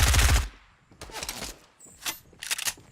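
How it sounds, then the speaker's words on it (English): Rapid automatic gunfire in the video game Fortnite comes in several short, loud bursts with brief pauses between them. "I'm going to end up shooting him down"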